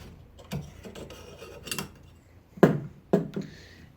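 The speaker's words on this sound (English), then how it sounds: "We first want to unscrew the old burner from the lamp." An old burner is twisted loose from a kerosene oil lamp: close, quiet metallic scraping and grating in several short bursts, the last two rasps sharper and louder.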